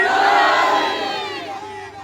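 A large crowd at an Eid Milad un Nabi gathering in Garh Morh roars a religious slogan in unison, loud massed voices swelling at once and then slowly fading and thinning out.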